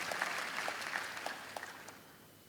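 A church congregation claps together, a soft, distant spread of applause with scattered crisp claps standing out, gradually fading.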